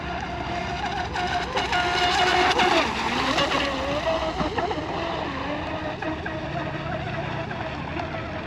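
A J&R Marine H26 RC boat runs on open water into the wind, its high engine whine rising and falling steadily through turns, with wind and a voice faintly in the background.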